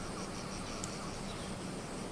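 A steady, faint chorus of crickets and insects hums through the outdoor ambience of the strategy game Humankind, continuous and even with no talking.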